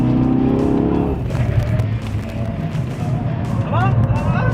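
Alpine A110 S braking hard on a race circuit, a loud in-car roar of engine and road noise with brief tire squeal, while occupants talk over it.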